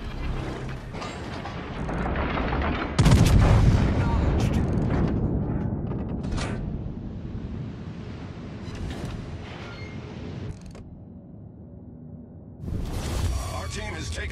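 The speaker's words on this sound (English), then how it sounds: "Concentrate fire on the enemy warship" Battleship gunfire in World of Warships: Legends, the German battleship Gneisenau trading shots in a naval battle: a heavy, booming salvo lands near the three-second mark over a constant mechanical rumble. Further blasts follow, and a voice talks over the action.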